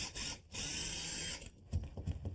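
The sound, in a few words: power drill drilling through carpet into floor sheathing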